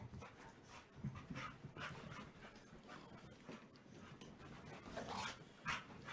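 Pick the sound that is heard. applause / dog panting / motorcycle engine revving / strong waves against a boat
dog panting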